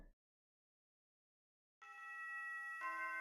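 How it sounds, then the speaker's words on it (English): A school bell rings out in a video game, a sustained tonal chime swelling after a stretch of silence and holding steady to the end. "from afar, you could hear the school's bell"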